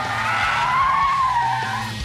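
A car slides sideways in a drift, its tyres screeching loudly in one continuous, wavering squeal over the engine's low rumble.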